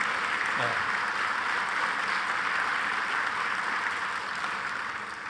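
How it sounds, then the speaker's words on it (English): An audience at the Milwaukee mayor's State of the City address applauds a group of babies, a broad, even wash of clapping filling the room at moderate volume. "Let's give the babies a round of applause"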